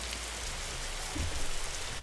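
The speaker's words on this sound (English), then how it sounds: "I can just go in here and change the weather and hop in, and it'll be raining now" Rain weather effect in an Unreal Engine 5 game level, a dense steady patter of rainfall on surfaces, even and continuous, with a faint low rumble near the end.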